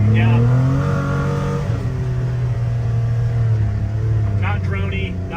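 A Polaris Ranger 1500 fitted with an RPM sport muffler and header exhaust holds a steady, moderately loud engine drone at full throttle around 40 mph, while people talk over it.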